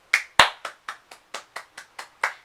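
A single person clapping their hands about ten times at a steady, unhurried rhythm, close and crisp against silence, with one sharper, louder clap near the start.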